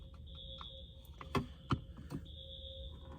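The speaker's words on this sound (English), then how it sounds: "some kind of fire alarm's going off or something" A faint, steady electronic alarm tone beeps in the background, with a few sharp clicks and taps breaking in nearby.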